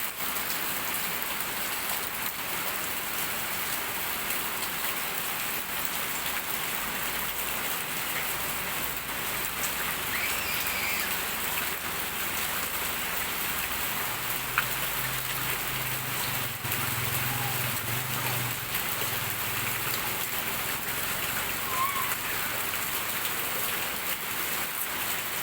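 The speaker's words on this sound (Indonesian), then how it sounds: "Makin deras hujannya." Heavy rain pours down steadily as a dense, even hiss, growing more intense over time, with a low rumble entering partway through.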